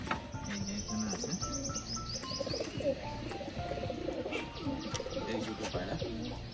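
Pigeons coo repeatedly in a low, rolling murmur close by, mixed with chirps and light rustling, while a voice talks at moments.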